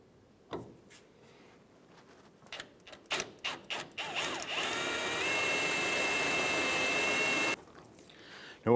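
A drill bores out the rivet heads on the rear shock mount bracket of a 1993-1997 Ford Ranger: a few sharp clicks and short bursts, then several seconds of steady, loud grinding whine before it cuts off.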